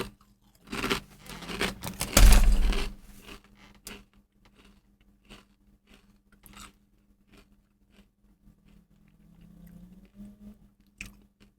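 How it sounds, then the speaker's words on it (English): Crunchy kettle chips are chewed close to the mic, with a dense burst of loud crunches at first and then sparser, quieter bites and chews. "I forgot how crunchy kettle chips are and how much chewing they require."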